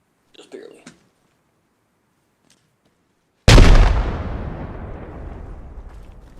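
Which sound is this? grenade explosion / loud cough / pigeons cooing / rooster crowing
grenade explosion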